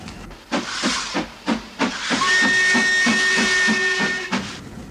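A steam locomotive blows a loud, sustained whistle over rhythmic chuffing and hissing steam as the train enters a tunnel, the chuffs pulsing steadily beneath the whistle.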